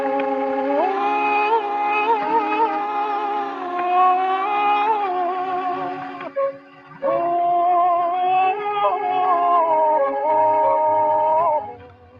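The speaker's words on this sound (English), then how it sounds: "that one translates from the Greek as a hydraulis, which is a water organ" A hydraulis, the ancient Greek water organ, plays a slow melody of sustained, slightly wavering pipe tones, loud and continuous, with one brief break partway through.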